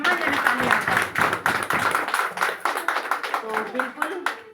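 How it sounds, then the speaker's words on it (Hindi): An audience at a factory visit in Bijaynagar claps for Mukesh sir: bursts of hand claps come in an uneven rhythm, close and fairly loud, while voices talk over them throughout. "एक बार सम्मानजनक तालियां।"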